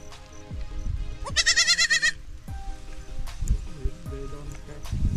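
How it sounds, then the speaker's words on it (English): Goats bleat nearby, one long wavering cry standing out above scattered shorter calls and rustling. "Hey baby, look, there's goats"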